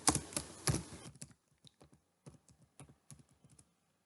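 Typing on a computer keyboard while working in Microsoft Excel: a dense burst of close keystrokes at the start, then scattered individual key clicks and short taps spaced irregularly.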